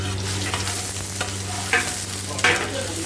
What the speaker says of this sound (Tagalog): Onion ha. Mix natin siya.